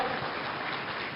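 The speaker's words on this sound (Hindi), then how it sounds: "जोरदार तालियां।" Loud, dense applause from a crowd at a live Madhya Pradesh stage event, a steady wash of clapping filling the whole short moment with no break.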